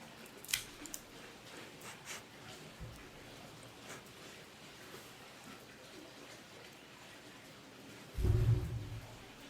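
A Cassetti combo cutter, a guillotine and V-cutter, makes a V-cut into a La Gloria Cubana Serie S Maduro cigar: one short, dull, close snip near the end, alone against quiet room hiss.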